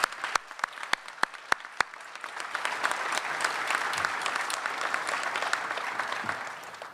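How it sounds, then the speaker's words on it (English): A few sharp claps start things off, then a press conference crowd breaks into sustained, even applause that holds steady to the end. "Let's give those kids a round of applause, please."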